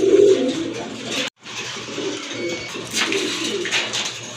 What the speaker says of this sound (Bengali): আরেক জোড়া কবুতর এটা হচ্ছে আপনার আকাশি কালার ভিতর এক জোড়া শার্টিন কবুতর